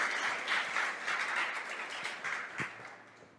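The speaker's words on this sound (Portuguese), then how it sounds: "Você pode aplaudir o nome do Senhor?" A church congregation applauds during a sermon, a dense wash of clapping that is fairly loud at first and slowly thins, with one sharper clap standing out near the end.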